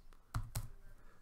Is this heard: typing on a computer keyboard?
yes